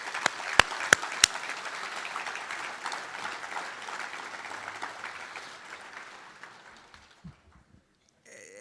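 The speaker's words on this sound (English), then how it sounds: "let's give a round of applause for all those that have supported you." Steady applause from a graduation audience with a few sharp claps up front, holding for several seconds before tapering off into quiet.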